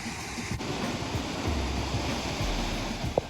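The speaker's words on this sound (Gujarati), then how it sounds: "આ નદી છે પાર નદી જેને પથ્થરોની નદી કહી શકાય" The rocky Par river in Valsad rushes steadily over stones, a continuous broad roar of flowing water heard alone, with a soft knock near the end.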